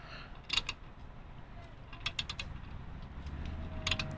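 A stiff bolt being unscrewed with a ratchet on a 2001 Jeep Grand Cherokee during heater core and A/C evaporator removal. Close clicking and creaking bursts come in short groups with quiet gaps between them.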